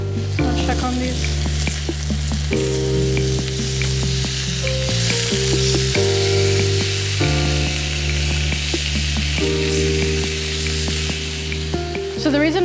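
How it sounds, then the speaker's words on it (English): Chicken sears in a hot pan for Tuscan-style chicken, giving a loud, steady sizzle that runs the whole time under continuous background music. "the reason why I'd like to sear my protein before I add it to the sauce"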